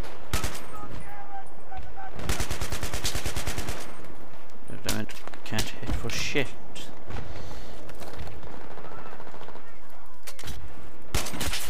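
Automatic gunfire in a Battlefield 3 team deathmatch, rapid loud bursts and single shots close up, with a player talking over the shooting and other game sounds.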